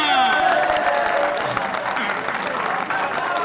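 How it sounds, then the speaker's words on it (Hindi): Village crowd breaks into loud, sustained applause after a promise to open a post office, dense clapping mixed with scattered cheers and voices, heard up close and fading slightly toward the end. "तालियां"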